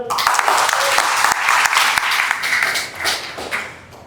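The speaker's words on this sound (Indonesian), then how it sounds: "boleh tepuk tangan dulu dong" A stand-up comedy audience at a callback-round show claps and applauds loudly in a dense, continuous wash that tapers off toward the end.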